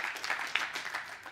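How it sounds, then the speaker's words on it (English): A few people in a church congregation clap briefly and sparsely, a short, thin patter of hands that fades quickly, with no talking. "only five people clapped"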